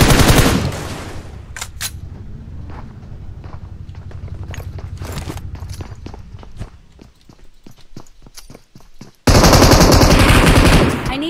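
Rapid gunfire in the mobile battle royale game BattleGround Mobile India, bursts of sharp close shots with footsteps between them, ending in a loud, dense volley.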